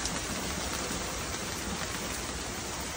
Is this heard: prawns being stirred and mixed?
no